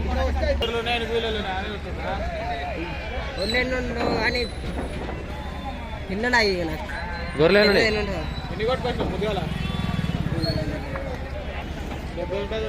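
Sheep bleat repeatedly at a busy sheep market in Pebbair, with several wavering calls close by over a constant low hum and crowd noise.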